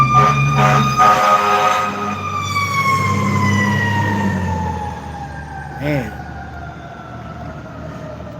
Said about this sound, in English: here comes the fire truck. It's gonna get loud here in a second.